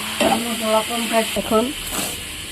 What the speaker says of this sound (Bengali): এইদিকে মশলাটা কষানো হচ্ছে।